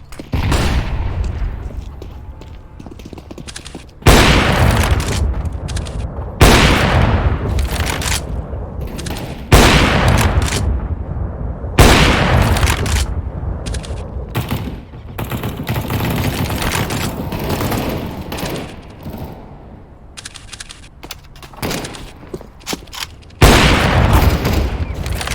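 Explosions and gunfire in a casual Counter-Strike: Global Offensive match on the Cobblestone map, with loud booming bursts and rapid shot volleys repeating across the clip over a constant background of in-game noise.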